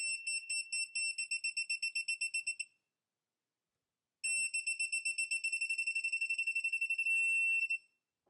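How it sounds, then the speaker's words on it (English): Rapid electronic beeping from a digital torque wrench reaching its preset torque, in two bursts, a few seconds each with a pause between, high-pitched and steady, the second burst speeding into an almost continuous tone. "So it's starting to beep."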